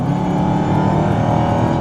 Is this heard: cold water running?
no